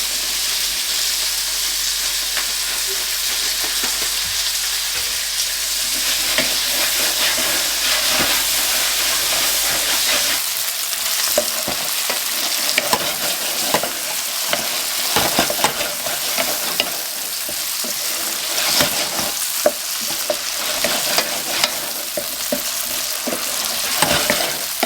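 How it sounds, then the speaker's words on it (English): Garlic and onions sizzling in a pan, a continuous bright frying hiss with steady crackle, and from about halfway on a utensil scrapes and stirs through the mix in quick, irregular strokes; no voices. "I'm going to chuck all that garlic in now."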